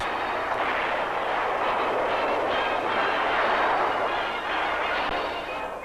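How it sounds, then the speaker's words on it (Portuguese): A dense, continuous roar of heavy artillery cannon barrage and booming explosions from World War I, loud and sustained throughout with no pauses or voices. "E a devastadora barragem de canhões pesados."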